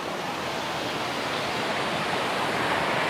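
Continuous rushing of moving water at an outdoor landscape spot, a steady broadband wash of surf-like noise that holds evenly throughout with no voices.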